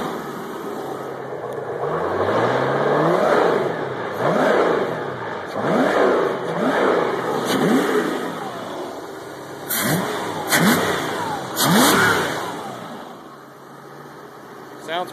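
A 1975 Mercruiser V8 marine engine with an EFI conversion runs steadily at close range, rising and falling through a series of revs over about fifteen seconds, with no talk over it.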